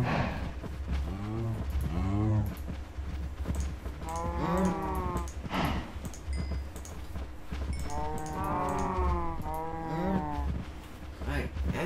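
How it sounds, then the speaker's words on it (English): Cows moo repeatedly in the video game Minecraft, several drawn-out, harmonic lowing calls spread across the stretch over a steady low game background, with no talk. "I'm gonna make some cows."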